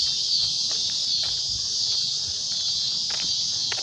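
Cicadas drone in a dense, continuous high buzz that holds steady throughout, with faint scattered background noises beneath it.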